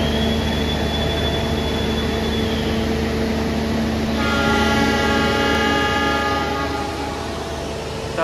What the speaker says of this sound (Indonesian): Kita berangkat kembali dari stasiun Kertosono.